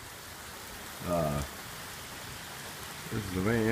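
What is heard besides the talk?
heavy rain falling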